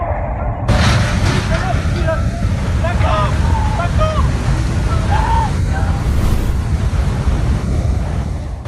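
Torrential floodwater surges across a steppe area, a loud, continuous broadband roar of churning water with wind buffeting, steady throughout, with faint tonal chirps from voices or debris scattered through the middle.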